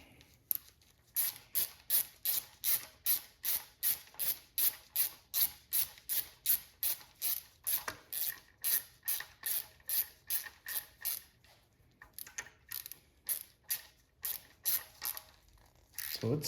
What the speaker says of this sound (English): You take your intake rocker and snug it down.